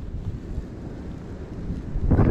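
Steady outdoor wind gusts rumbling and buffeting against the microphone at a fishing lake, with a stronger gust building near the end.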